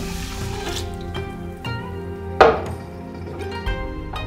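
Water poured from a cup into a cooking pot holding rice, splashing and trickling with a few sharp clinks of dish against metal, close and fairly quiet.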